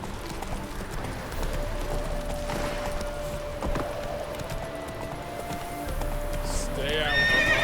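Roach the horse galloping in The Witcher 3, with rapid hoofbeats thudding steadily and a whinny near the end, as a voice speaks over the ride.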